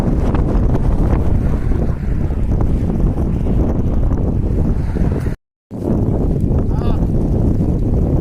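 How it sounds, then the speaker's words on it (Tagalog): Heavy wind at sea roars into the microphone nonstop, a loud low rumble mixed with the wash of deep open water during overnight fishing, cutting out for a moment midway. "Medyo malakas ang hangin."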